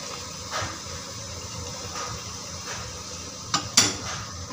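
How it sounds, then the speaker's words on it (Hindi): Coriander powder, red chilli powder, turmeric and salt being roasted in a pan for batte, with a spoon stirring and scraping against the metal under a steady low sizzle, plus a couple of sharper clinks near the end. "मसाला डाल के अच्छे से भून लेंगे इसको हम।"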